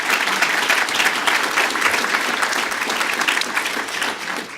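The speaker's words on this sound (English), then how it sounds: "So let's give Forrest a big round of applause." Sustained applause from an audience for Forrest Claypool at a Chicago Public Schools gathering: dense, steady clapping that holds strong for several seconds and tapers slightly at the end.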